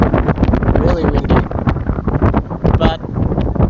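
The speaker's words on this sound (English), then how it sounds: "whoa, it's windy. It's literally blowing the phone." Strong wind buffets a phone microphone outdoors, a loud, constant rumbling roar with gusty swells that nearly swamps everything else.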